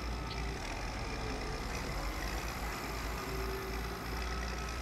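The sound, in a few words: tractor engine shifting gears in Farm Expert 2017 video game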